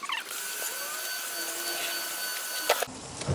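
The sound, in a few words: power drill drilling holes in plastic bin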